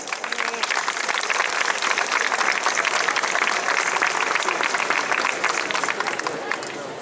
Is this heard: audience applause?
yes